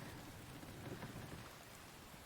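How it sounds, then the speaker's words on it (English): Pouring rain drums without pause outdoors, a thick even wash of noise with low rumbling underneath, faint and distant-sounding, with no one speaking. "And it's still pouring rain."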